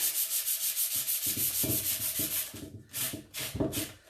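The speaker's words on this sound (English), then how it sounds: "Sanding all my edges." Rhythmic back-and-forth rasping of sandpaper on the edges of a painted wooden seed crate, close and steady, with quicker, uneven strokes toward the end.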